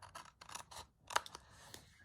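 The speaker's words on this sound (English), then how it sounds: "Just need to trim, that's my scissors." Scissors snip through paper while trimming a junk journal page, a quick series of close, crisp cuts with short pauses between them.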